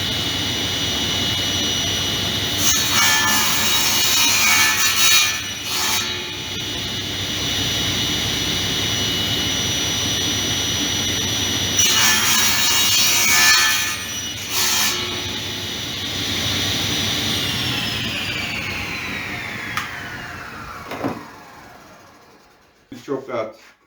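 A saw cuts wood on a mitre sled with a riser and clamp, giving two loud rasping bursts of strokes, the second followed by a long fading whine and a few knocks, with talk between the cuts.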